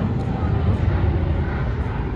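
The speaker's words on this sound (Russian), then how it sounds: "Вот самолет." An airplane passes near Fiumicino airport in Italy, a steady, broad, low engine roar that holds at an even loudness throughout, with no talk over it.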